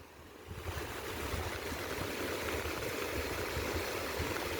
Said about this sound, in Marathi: काय जबरदस्त पाणी आहे हा रस्ता इकडं आणि इकडे आहे पाणी